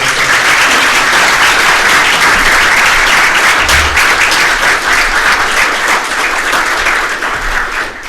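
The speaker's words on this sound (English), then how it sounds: "Would you please give a big round of applause for all three of us?" Loud, dense applause from the audience at a sheriff candidates' public forum, a continuous roar of many hands clapping that holds steady for eight seconds and eases slightly toward the end.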